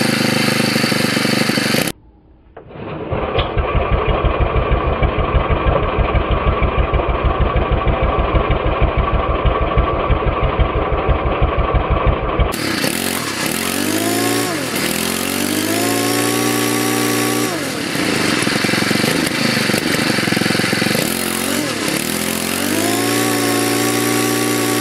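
A new weed wacker's small two-stroke engine cuts out briefly, then restarts and runs with a loud, buzzy idle before revving up hard in repeated rising and falling surges, close and alone.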